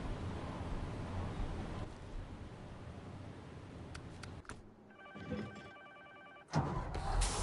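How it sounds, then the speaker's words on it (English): A telephone rings in a SnowRunner truck-driving game session, a short trilled ring bursting out after a stretch of engine and ambient game noise, moderately loud with no talk. "Answer the phone, will you?"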